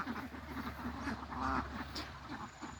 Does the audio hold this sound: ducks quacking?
yes